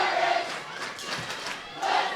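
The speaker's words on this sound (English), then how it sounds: "And the crowd very much energized by that goal." Crowd at a women's college soccer semifinal between Highline and Peninsula cheering a goal, a brief surge of mixed shouting and yelling that swells and fades within a couple of seconds.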